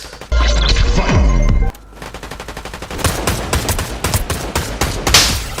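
Gunfire in the Fortnite video game, with a loud crash and burst of noise first, then a long stretch of rapid, closely spaced shots that keep up a steady rattling rhythm.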